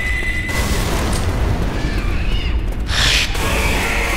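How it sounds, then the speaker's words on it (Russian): A homemade pipe bomb goes off in the zombie shooter Left 4 Dead 2, a loud dense boom that fills the whole stretch with sustained roar, with a brighter burst of debris near the end. "Бросаю бомбу!"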